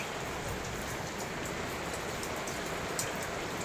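Steady rain falls outside near a flooding garage, a dense, even hiss of drops on surfaces with occasional sharper drips and no voices.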